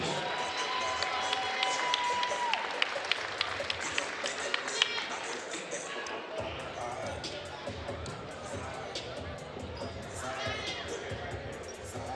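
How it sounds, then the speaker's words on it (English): An audience applauds the two boxers after their bout at an amateur boxing event at Fairfax Recreation, a steady moderately distant clatter of clapping with scattered cheers and some crowd movement. "Let's give a round of applause for these two outstanding boxers"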